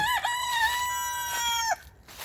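A rooster crows once near the microphone among Gold Brakel chickens kept outdoors at a poultry coop, a loud drawn-out call with a rising start and abrupt end, with no talk over it.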